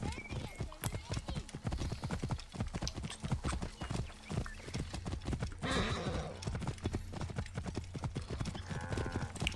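Horse hooves clip-clop steadily in Assassin's Creed Origins, set in ancient Egypt, with a neigh partway through, while people talk over the rhythmic trotting throughout.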